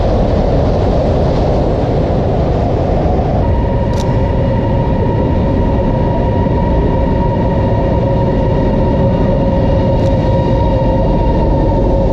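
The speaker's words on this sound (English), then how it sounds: "welcome aboard the CRH train" A steady, loud rolling roar of a Chinese CRH high-speed train in motion toward Beijing, with a sustained whine rising partway through and continuing throughout.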